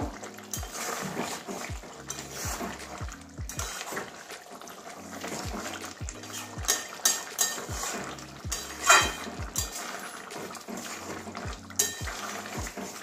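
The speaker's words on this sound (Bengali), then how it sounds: "ভালো করে মিশিয়ে নেব" Garam masala being stirred into a thick jackfruit curry in a pan, with repeated clinks and scrapes of a utensil against the pan in an irregular rhythm, close and moderately loud, over a soft bubbling.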